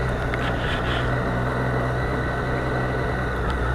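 A Triumph Street Triple 765 RS motorcycle is ridden along, giving a steady, continuous engine drone mixed with rushing wind, loud and unbroken throughout.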